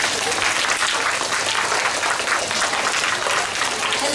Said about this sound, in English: Give a big round of applause for your teachers.